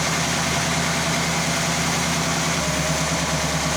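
A big-block 1966 Chevy Biscayne V8 idles at about 1,000 RPM, a steady, loud, low rumbling drone that holds constant from start to finish with no voices.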